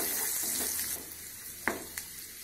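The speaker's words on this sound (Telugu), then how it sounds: "నేను ఇప్పుడు ఏమో ఆయిల్ వేయట్లేదు, పోపు గింజలు వేస్తున్నా" Tempering seeds sizzle in a pan without added oil while a dry fish tomato curry is cooked, a soft crackling hiss with a couple of brief clinks, no talking.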